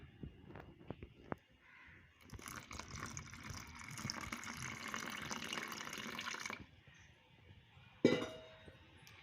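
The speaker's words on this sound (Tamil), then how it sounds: "அரை கப் பால் இதில் ஆட் பண்ணிக்கலாம்." Half a cup of milk poured into banana pancake batter with eggs, a soft steady liquid pour lasting a few seconds, with faint kitchen clinks before and a brief knock after.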